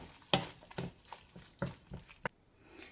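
Broccoli gravy with chicken masala being stirred in a frying pan, heard as a string of soft scraping and sloshing strokes at an uneven pace, close and fairly quiet with a gentle sizzle underneath.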